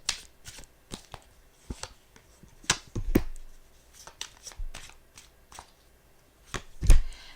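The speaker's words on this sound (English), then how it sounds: "let me just pull these cards here." Tarot cards being shuffled and pulled during a reading, heard as close, crisp bursts of riffling and slapping with irregular pauses between them and no talking.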